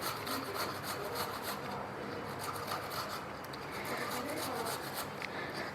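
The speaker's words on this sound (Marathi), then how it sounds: "किसणीने किसून घेऊयात." Peeled fresh ginger rubbed back and forth on a hand grater, making a close, steady rasping scrape in repeated strokes with no pauses.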